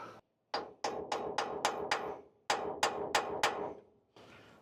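Steel punch struck with a hammer to mark drill holes on a squarebody truck cross member: two sharp metallic bursts of ringing blows, each series a quick even rhythm of five or so hits, close and loud with brief pauses between.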